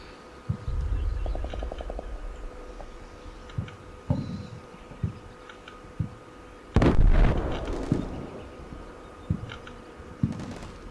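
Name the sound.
artillery shells exploding in Combat Mission Shock Force video game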